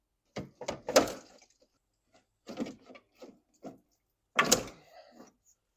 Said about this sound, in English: we can slide this washer tank out of its groove